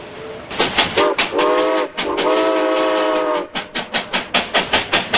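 Steam locomotive Iron Horse 1702 runs on the Great Smoky Mountains Railway with loud, close, rhythmic chuffing. Two long steam whistle blasts sound through it, and the chuffing continues steadily after them.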